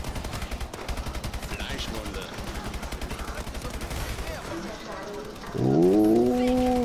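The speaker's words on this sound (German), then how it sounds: "Kann ich schön schießen." Rapid bursts of gunfire from a Call of Duty Advanced Warfare Exo Zombies match repeat steadily through the scene, followed by a louder tonal game effect near the end, with game audio filling the background.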